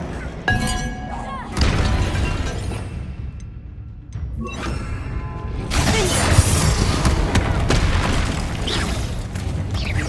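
Confringo fire spells in the video game Hogwarts Legacy go off as loud booms and shattering bursts, separated by short gaps and followed by rumbling debris and clattering game effects.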